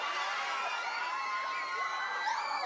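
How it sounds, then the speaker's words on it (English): Children and adults cheer and shout together at a Christmas light switch-on event in Crumlin, a steady, dense wash of high-pitched voices and squeals filling the whole moment without letup. "Will you give him a big cheer?"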